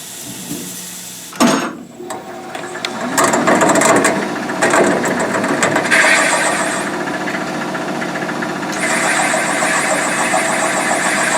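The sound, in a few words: machine trimming K-line valve guides on exhaust side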